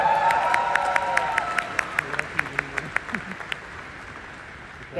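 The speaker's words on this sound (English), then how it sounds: "Give yourself a round of applause." Convention audience applause at a motivational business speech, a dense clapping wash for a few seconds that thins into separate sharp claps and fades out.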